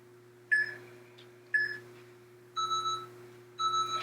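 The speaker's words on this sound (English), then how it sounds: "The double beep means that round is complete" A workout interval timer sounds two short electronic beeps to mark the end of a round in a lower-body strength session, followed by two longer, steadier tones, all clear and isolated over a low steady hum.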